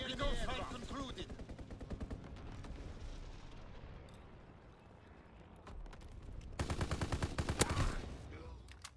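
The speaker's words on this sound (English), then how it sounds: "Fighter pilot inbound, strafing the target." Strafing gunfire from a fighter plane in the World War II shooter game Call of Duty: WWII, dense bursts of rapid shots over rumbling explosions, easing off mid-clip and then returning loud and close.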